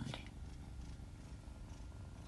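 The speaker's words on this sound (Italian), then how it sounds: "Quanto è fusa." Soft, steady purring from a small cat, close and quiet, continuing evenly throughout without any voices.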